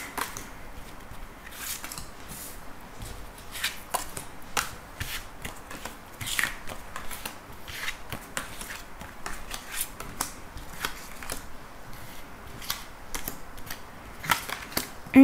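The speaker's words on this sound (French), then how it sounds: "je vais faire un tirage en 13 cartes pour voir un petit peu ce qui va se passer dans cette journée" Tarot cards are shuffled and handled for a thirteen-card reading, giving soft repeated riffling and flicking sounds with faint clicks, steady and close, with no talking.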